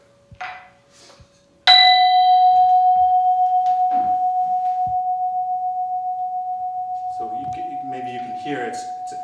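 Two tuned instruments strike the same F together in a lecture setting, and the long sustained tone pulses with steady beating about seven times per second. Faint talk comes before the strike and returns near the end as the note fades.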